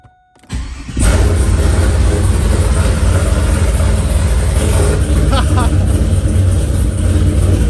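A Pontiac Firebird engine cranks briefly and catches, then settles into a loud, steady, rumbling run that carries on close by with no break.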